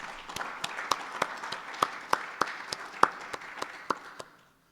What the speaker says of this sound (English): Can we have another round of applause for all the speakers this morning?